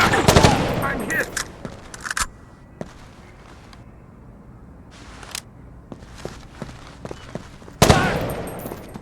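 Loud bursts of automatic rifle fire from the Xbox tactical shooter Rainbow Six 3 open the moment, followed by scattered single shots and a quieter lull, then another sharp burst near the end, with shouted voices over the shooting.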